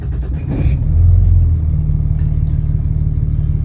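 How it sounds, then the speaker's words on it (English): A truck engine cranks and catches, swelling into a loud rumble before settling into a steady low idle. "I'll start the truck up."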